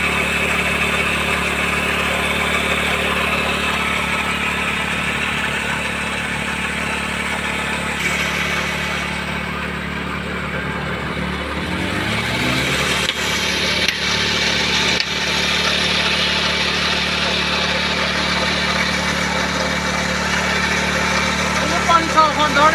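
A motorcycle engine rigged to drive a farm water pump runs steadily at a loud, close idle-like drone throughout, with a few faint clicks and people talking over it.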